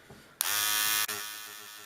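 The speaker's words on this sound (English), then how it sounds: "you press that button there, and the tip rotates" A small handheld electric tool with a rotating tip, used for painting foliage textures, switches on with a sharp click and whirs in a high buzzing hum for under a second before cutting off and winding down.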